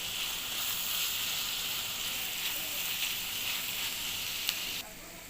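Onions sizzling in a pan for Goan sausage, a steady, fairly quiet hiss with faint pops and crackles that runs without a break and drops slightly in level near the end.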